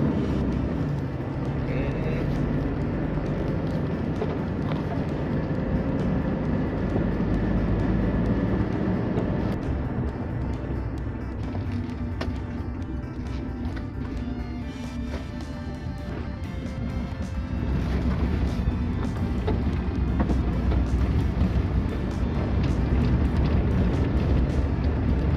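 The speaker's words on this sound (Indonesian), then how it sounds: "Kita test drive agak sedikit kencang." A Mitsubishi Strada Triton double-cab pickup drives fast on a test drive, its engine and road noise forming a loud, continuous rumble with wind and cabin hum swelling and easing throughout.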